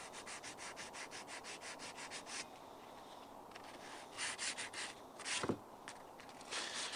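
Stiff scrubbing of rust off the handle of a cast iron pan, a fast run of rhythmic rasping strokes, then a pause and a few more bursts of rubbing, close and fairly quiet.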